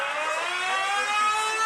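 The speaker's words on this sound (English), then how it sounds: "And we hit the siren." An air-raid style siren wails loud and steady at a varsity high school football championship game right after a touchdown, its rising tone holding strongly throughout.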